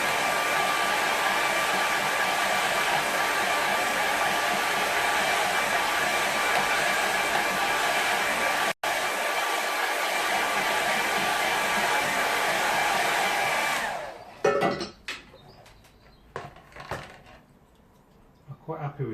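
A hair dryer blows steadily and loudly to dry a watercolour painting of a woodland scene, a constant broadband roar for about fourteen seconds that cuts briefly once, then switches off, leaving faint handling noises.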